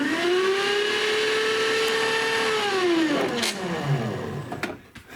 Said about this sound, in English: that motor's plugged in right now because I was testing it after I fixed it